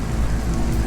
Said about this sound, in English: Love the rain.